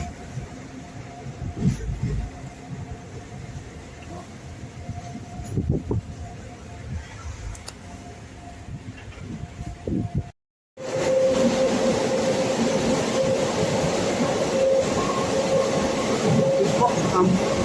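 The Matsyagandha Express runs between Mangalore and Barkur with a steady, loud rumble and clatter of railcars, a brief silent gap, then a louder, harsher roar as the train enters a tunnel.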